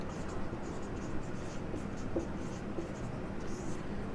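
Numbers are written on a classroom board during a physics lesson, a continuous soft scratching of strokes at close range under a light background hiss.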